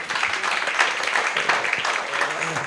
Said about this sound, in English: So for that I would request a special clap for her.